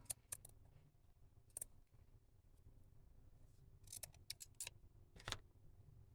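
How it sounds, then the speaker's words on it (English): Scissors snip a piece of lace with a few sharp, brief cuts scattered over a quiet background, close and crisp. "Let's cut a little piece off of this."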